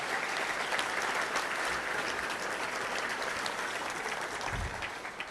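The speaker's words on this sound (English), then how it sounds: "let's give a big round of applause to everybody for getting that kind of lineup" Dense, steady applause from a luncheon audience at a touchdown club fills the room at close range, holding strong throughout before easing slightly at the very end.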